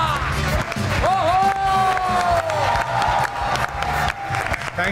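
A studio audience on a TV talk show applauds and cheers for a guest, a dense wash of clapping and crowd noise with a voice calling out over it.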